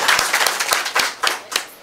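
An audience applauds to acclaim Frédéric Kaboré at a welcome event. The clapping is brisk and uneven, with distinct individual claps close by and loud, no voices.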